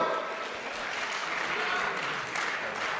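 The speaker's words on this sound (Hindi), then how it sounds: "भाई ताली बजाओ तो एक बार बजाओ।" Audience at a Holi kavi sammelan poetry recital breaks into steady, dense applause, a continuous wash of many hands clapping at moderate distance with no clear pause.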